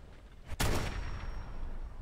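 A single sharp gunshot in the Fallout 4 video game cracks out near the start, followed by a long rumbling decay that fills the rest of the short moment.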